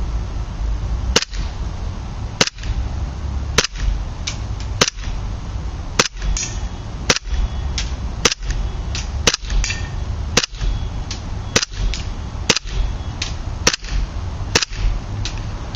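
An HFC USP gas blowback pistol fires semi-automatic at a target, sharp loud snapping shots spaced about a second apart in an even rhythm, a dozen or more in a row with no talking.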